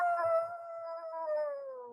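A person imitates a wolf howl, a single sustained wavering vocal tone sliding slowly downward over about two seconds, loud and close with no other talk.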